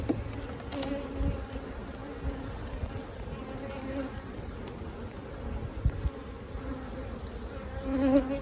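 A steady, dense hum of many honeybees buzzing close by in a hive, continuous throughout, with occasional louder passes from individual bees.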